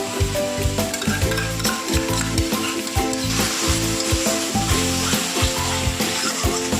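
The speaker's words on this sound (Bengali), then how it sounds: "আমাদের মশলা কষানো হয়ে গেছে, আমরা 50 গ্রাম মতো দই দিয়ে দিই।" Cooked-down spice masala with about 50 grams of yogurt and Kashmiri chili powder added, bubbling and sizzling in a pan while a spatula scrapes in a quick, repeated rhythm, loud and close.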